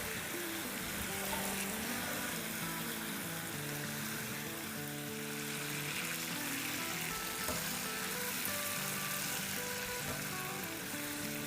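Chicken masala sizzles in a pan on a medium-low flame, giving a steady close crackling hiss throughout, with soft tonal background music underneath.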